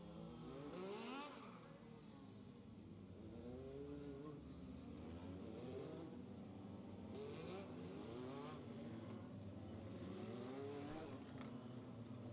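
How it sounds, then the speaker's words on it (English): Several race cars rolling out onto a raceway at a heat race, a dense continuous roar of engines with overlapping revving and pitch sweeps as cars pass, steady and fairly distant with no talking. "Cars rolling out on the raceway."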